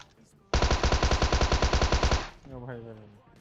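A Tommy gun in PUBG Mobile fires one loud, fast automatic burst of nearly two seconds, each shot distinct and close. The burst cuts off and a voice briefly follows.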